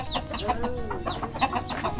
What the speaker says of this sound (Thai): ไก่หลายเนาะ